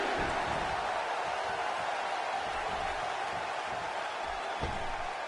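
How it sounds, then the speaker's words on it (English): A large wrestling arena crowd in the video game WWE 2K17 roars in a steady, dense wash of cheering and noise, continuous throughout with no distinct voices standing out. "by the sounds of it, this crowd is ready for anything that happens tonight"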